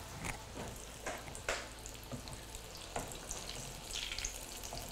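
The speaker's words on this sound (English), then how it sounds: "So we're just going to shallow fry them." Stuffed meat buns shallow frying in oil in a pan, a steady close sizzle with scattered pops and crackles running throughout, no one speaking.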